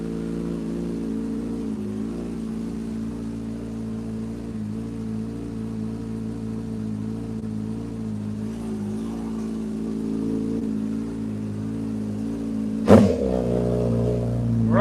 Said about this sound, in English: We're gonna give her some revs.